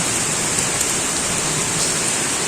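Rain falls steadily outside as an even, close hiss of drops that does not let up, with no voices.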